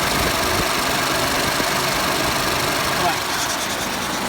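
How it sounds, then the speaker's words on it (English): Fuel injectors click rapidly in the idling EcoBoost V6 of a 2013 Ford F-150, a fast steady ticking layered over a loud, constant engine hum heard up close. "You can actually hear all the fuel injectors firing."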